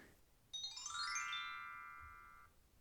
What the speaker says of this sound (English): I want one of those chimes